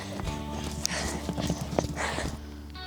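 Horses at a horse shelter trot past with quick, rhythmic hoof clip-clops close by, some snorting and a brief whinny-like sound, while people call out in the background.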